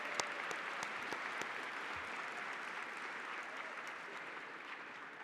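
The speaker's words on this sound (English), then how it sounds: "Can we get a round of applause for them?" Audience applause at a gala evening, a steady wash of clapping from a large crowd that holds evenly loud from start to finish.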